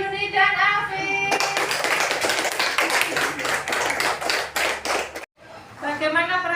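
A school class claps for two classmates, a dense, lively burst of many small hands lasting several seconds. A voice speaks just before the clapping, which stops abruptly, and talking resumes afterward.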